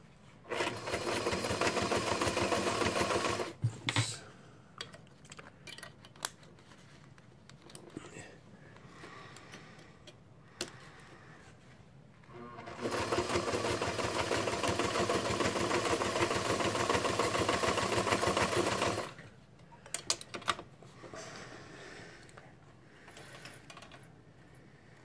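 A White 609 sewing machine zigzag stitching through four layers of denim, with two long loud runs of steady motor whir and needle chatter separated by quieter pauses with faint handling sounds.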